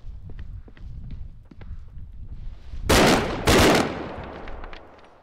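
Two loud single-fire gunshots ring out close together in Bodycam, preceded by soft running footsteps and light movement noise.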